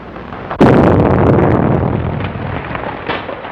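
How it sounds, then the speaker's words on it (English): A loud explosion sound effect from a 1938 radio crime drama bursts in suddenly and then rumbles and roars on in a long, slowly fading wash of noise, with no talking. "Explosion in 93 Madeira Drive."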